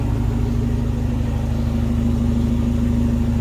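A 1994 Honda Prelude Si engine idles steadily with no exhaust fitted, a low, even rumble and a constant hum, close by and unbroken throughout.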